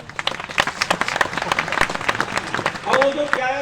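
An audience at an outdoor poetry recital claps in a scattered burst of applause that thickens toward the end, with a voice speaking over it near the close.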